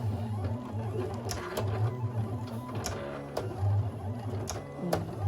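A cutting machine slicing a vinyl hat design produces a steady mechanical whir with a low motor drone and repeated sharp clicks and taps as the blade carriage moves, running continuously at moderate level.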